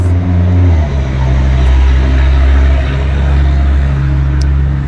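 Luxury cars roll past on a street in Monte Carlo, Monaco, with a loud, steady engine drone and a low rumble that shifts as a car passes close by.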